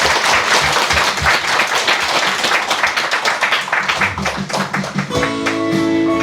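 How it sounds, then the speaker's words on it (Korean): An audience at a lecture in Damyang applauds, giving steady, dense clapping throughout, with a sustained musical tone entering near the end. "여러분 박수 한번 주십시오"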